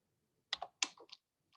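A computer keyboard tapped to type a file path, a handful of close, crisp keystrokes in a quick irregular burst, then one faint final tap in an otherwise silent room.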